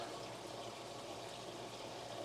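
Water pours and bubbles steadily through a homemade aquarium filter feeding a large tank, a continuous rushing wash of flowing liquid with a low hum beneath, constant and fairly close throughout.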